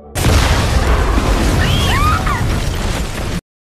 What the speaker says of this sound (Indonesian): Beberapa saat kemudian, peledak aktif di dekat Terra Lab